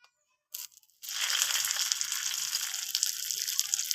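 Banana-leaf-wrapped Mourala fish pathri hits a hot pan after a brief soft clatter, then a loud, steady sizzle of frying continues without a break to the end.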